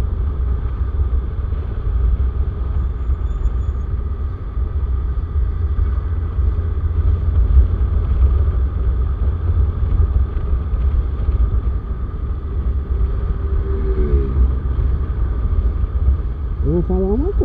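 Stopped road traffic along a bus corridor, a loud, steady low engine rumble from idling vehicles with wind buffeting the microphone, a constant drone without clear passes.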